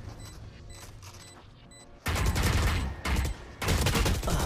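Gunfire in the Valorant video game, with loud, dense bursts of rapid shots starting midway and repeating in three close volleys after a quieter stretch of game ambience.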